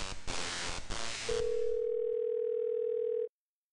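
A steady telephone dial tone in the video game Thimbleweed Park holds alone for about two seconds and then cuts off, following a brief burst of other game sound.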